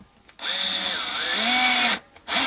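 A cordless power drill driving screws at a low torque setting while assembling a Vintage Icon V6 guitar, heard as a loud, close whirring motor run that rises in pitch, stops, then briefly restarts.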